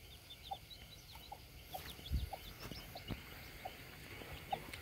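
A hen and a brood of chicks on a farm in Vietnam, with soft repeated clucks and high chick peeps at a steady rhythm, plus a few low thumps, fairly quiet and close.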